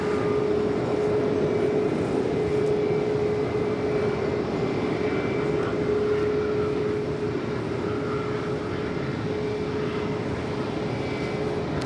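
An ANA Boeing 787 Dreamliner at LAX gives off a steady, loud engine roar with a constant hum running through it. The sound holds evenly throughout, with no speech.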